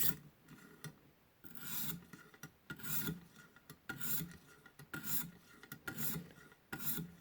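A tanto knife is drawn across a ViperSharp sharpener with the burr removed, giving a series of clean, rhythmic rasping strokes, close and fairly quiet, separated by short pauses and small ticks.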